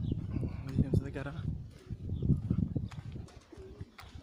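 Racing pigeons coo softly at a loft during a homing race return, low murmuring calls repeating close by while people talk over them.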